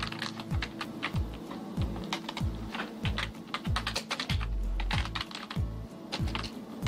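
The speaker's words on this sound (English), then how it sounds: "At her computer, Cynthia Tucker carefully crafts a new column for the AJC." Someone types steadily on a computer keyboard, a close, moderately quiet rhythm of key clicks running throughout with no talking.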